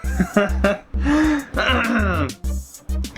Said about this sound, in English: I had to clear my throat a bit